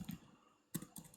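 Computer keyboard keys clack in two short bursts of typing, close and clear with a quiet gap between them.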